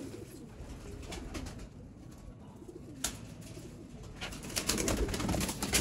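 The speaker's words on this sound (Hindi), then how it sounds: "लाइट वेट कबूतर है ये, प्रेल कबूतर" A light-weight female pigeon coos among other birds in a loft, a steady low murmur of soft calls filling the background with occasional brief louder notes, no voices.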